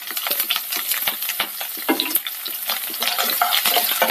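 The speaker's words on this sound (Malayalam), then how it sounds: "ഇതിലേക്ക് വെളുത്തുള്ളി, ഇഞ്ചി, പച്ചമുളകും ചേർക്കാം." Garlic, ginger and green chilli fry in hot oil in a Kerala-style fish curry preparation, giving a loud, close, continuous sizzle broken by frequent scraping stirs of the pan.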